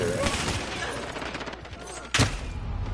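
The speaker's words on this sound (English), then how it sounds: "there's a sentry gun over there." A sentry gun in the video game A Way Out fires rapid bursts of automatic gunfire, a sustained crackling rattle with a louder blast near the end, amid game ambience.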